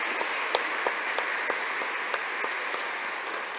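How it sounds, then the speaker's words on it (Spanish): A church congregation at a Friday Mass at a national Marian sanctuary claps steadily at moderate volume, with a few sharper individual claps standing out. "vamos a dar un aplauso a Dios que llegamos hasta el final"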